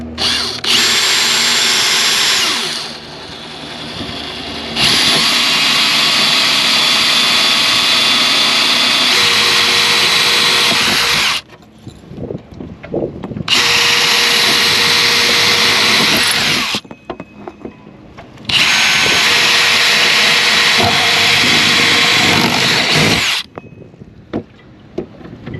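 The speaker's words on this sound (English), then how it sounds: "We've got to drill some holes now." Power drill whirring in several long bursts, loud and close, drilling holes for a dinghy engine mount, with short pauses between runs and no talking.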